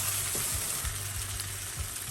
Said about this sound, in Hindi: हाई फ्लेम पे हमें मसाला सॉटे करना है।